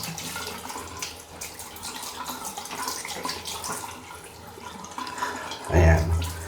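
Water from a running tap splashes over an Honor X7C phone being rinsed, a continuous hissing flow with a louder, heavier gush near the end.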